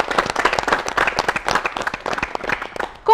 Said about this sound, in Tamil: ஒரு நல்ல கைத்தட்டல் கொடுக்கலாம்